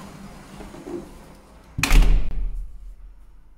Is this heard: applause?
no